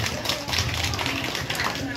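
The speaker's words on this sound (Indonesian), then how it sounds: "Tepuk tangan buat semuanya." Audience clapping at a Balinese bondres comedy performance, a dense steady patter of hands sustained throughout with talk and music underneath.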